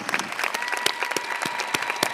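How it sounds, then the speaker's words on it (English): A crowd applauds at a high school graduation ceremony for the class of 2023, a dense, steady patter of many hands clapping that carries on for a couple of seconds without talk. "Let's have another round of applause for that."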